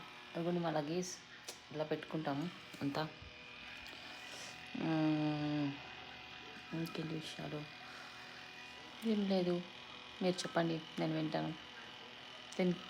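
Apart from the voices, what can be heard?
small electric fan running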